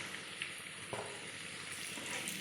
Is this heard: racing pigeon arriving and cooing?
no